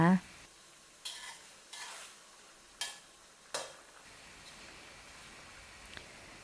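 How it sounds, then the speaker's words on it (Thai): Catfish pieces simmering in a pan for a Thai stir-fried basil dish, with a faint bubbling sizzle beneath several sharp scraping and tapping strokes of a utensil against the pan. "จากนั้นเคี่ยวต่อไปเรื่อยๆนะคะ จนกว่าเนื้อปลาจะสุกดีนะคะ"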